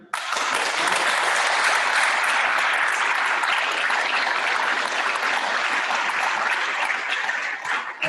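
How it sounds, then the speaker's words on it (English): Graduation audience applause at a summer ceremony swells into a dense, continuous roar of clapping that holds steady for about eight seconds before easing off at the very end. "give you a hand clap here"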